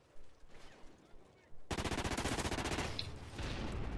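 Rapid automatic gunfire in Call of Duty Ghosts, a dense, fast string of shots that starts abruptly after a brief quiet stretch of game noise and keeps hammering nearly nonstop, loud and close.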